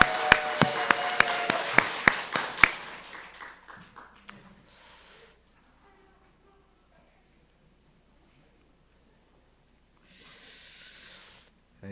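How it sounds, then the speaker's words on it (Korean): Clapping from a congregation at a church thanksgiving service, a dense burst that opens with sharp loud claps and fades over about five seconds, then a short second round of applause near the end. "다시 한번 박수하겠습니다"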